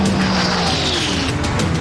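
A funny car at a drag racing event roars past loudly, its engine pitch sliding downward as it passes with a high whine fading out, with no talking.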